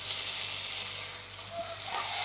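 Chicken fries with chicken masala and Maggi masala in a pan, giving a steady close hiss of sizzling oil with faint stirring touches and a brief clink near the end.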